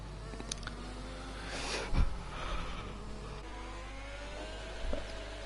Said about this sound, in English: Aero Blake's just revving his engine like crazy just to try and use as much fuel as possible